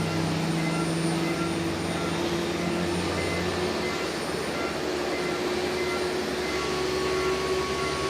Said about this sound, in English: Now we've got what looks like some sort of go around.